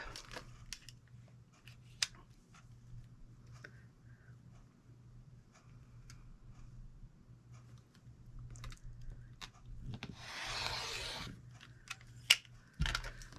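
Scissors snip through pillowcase fabric in a few scattered close cuts, with a longer rustling cut of the cloth near the end, over a steady low hum in a quiet sewing room.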